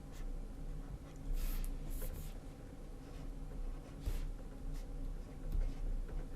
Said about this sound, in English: So I'm going to attempt to draw the bullet embedded inside the rod here.